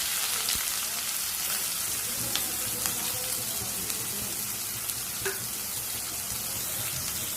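Four finely chopped onions fry in oil after mustard seeds have popped, for a drumstick (moringa) curry, giving off a loud, steady sizzle with a few faint pops and clicks on top.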